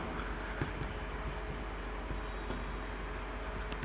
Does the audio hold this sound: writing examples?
yes